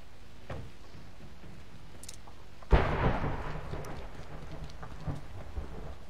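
Rain falls steadily in PUBG: Battlegrounds, a soft continuous patter, until a sudden sharp thunderclap cracks midway and rumbles away over the following seconds.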